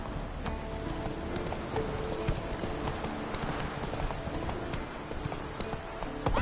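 Horse hooves galloping in Witcher 3: continuous rhythmic clip-clop at a fast pace, close and fairly loud, running steadily through the whole stretch with game ambience underneath.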